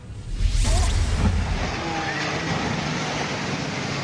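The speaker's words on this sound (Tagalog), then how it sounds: "Lampas na sa seawall ang nagtataas ang alon na ito sa Emelda Boulevard sa Santa Cruz, Catanduanes kaninang umaga." Storm surge waves from a typhoon crash over a seawall along a boulevard in Santa Cruz, Catanduanes, with a heavy roaring impact and rush of water early on that settles into a continuous loud churning wash.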